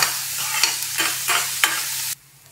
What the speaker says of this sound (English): I'm making a filling first with a tablespoon of oil, 1 medium-sized onion finely chopped